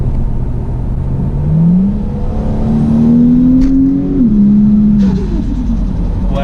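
Ford Falcon FG Turbo with a new tune revving hard, loud close engine note climbing in pitch, dipping briefly at a gear change, then rising again, with turbo whistle above.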